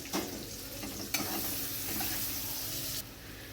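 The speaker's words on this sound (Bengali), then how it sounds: "পেঁয়াজটা আমি একটু ভাজা ভাজা করে নেব" Oil sizzles steadily in a pan as onion fries with nigella seeds, with a few scraping stirs and clinks over the constant crackling hiss.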